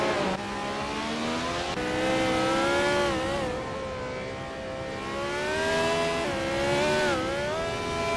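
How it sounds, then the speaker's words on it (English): Racing car engines in a video game, including a Lotus 49 classic F1 car, whine and rise in pitch as they accelerate through gear changes, loud and continuous with no talk. "Hingle McCringleberry is driving a Lotus 49, a classic F1 car known for its innovative design"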